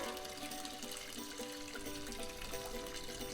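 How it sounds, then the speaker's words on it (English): Liquid soap poured into a mold from a kids' dinosaur soap-making science kit, a soft steady trickle running continuously at moderate level with faint background tones, no talking. "Now I'm gonna pour it into the mold quickly."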